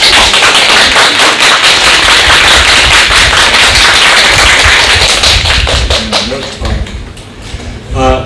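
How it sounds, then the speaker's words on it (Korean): A church congregation clapping in blessing during a Sunday service, loud, dense and close, the applause holding steadily for several seconds before thinning out, with a voice speaking briefly near the end. "우리 축복의 박수 한번 드립니다"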